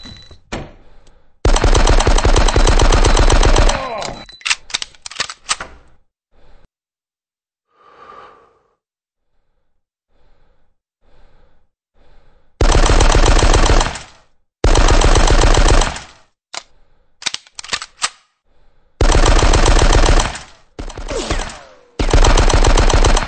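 Automatic weapons fire in the PC shooter Die Hard: Nakatomi Plaza comes in loud, sustained bursts, broken by a quieter stretch of faint breathing and small sounds.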